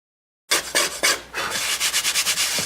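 A hand scraper shaves wood while shaping a mandolin build, a series of close, rhythmic rasping strokes that start abruptly and quicken toward the end, with no talk.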